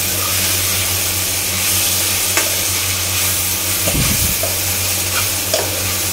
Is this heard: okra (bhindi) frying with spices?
yes